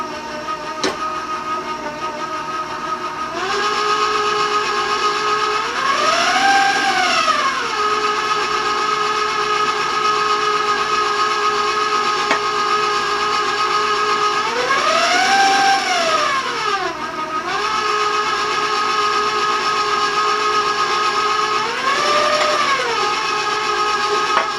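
An electric mixer whirs steadily for long stretches while nine eggs are added one at a time to chocolate cake batter made from a cake mix, its tone repeatedly sweeping up and down as the beaters work the batter.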